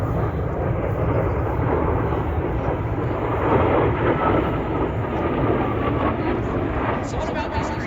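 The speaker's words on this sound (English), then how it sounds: "Simply incredible to see these jets displayed right here in front of us at the Florida International Air" A jet aircraft flies at the Florida International Air Show in Punta Gorda, producing a loud, continuous broadband roar that lasts throughout. An announcer talks over the engine noise.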